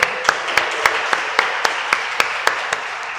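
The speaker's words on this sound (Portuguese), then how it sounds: "Vamos aplaudir o nosso Deus." Worshippers at a church service clap together in a steady, even rhythm, with each sharp beat landing about every quarter second, close and lively, and no voices over the clapping.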